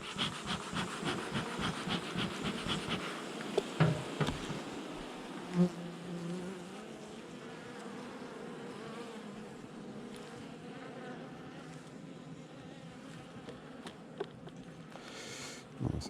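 Honeybees buzzing around an open hive frame holding a small swarm, a steady close droning hum that fills the whole stretch with a few faint knocks, no talking.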